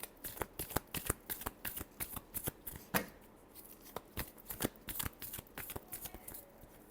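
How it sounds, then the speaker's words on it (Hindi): A deck of tarot cards is shuffled by hand in a series of close, crisp riffling snaps and soft slaps in an uneven rhythm, with no talking. "Last shuffle."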